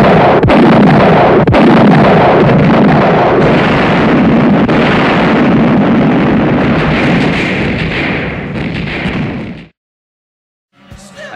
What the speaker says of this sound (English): commence firing. Fire at will.